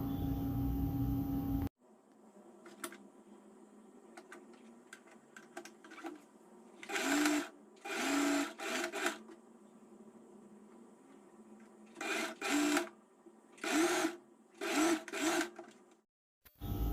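Sewing machine joining the shoulder seam of a frock, several short loud bursts of rapid mechanical stitching separated by quiet pauses and handling clicks, with no speech.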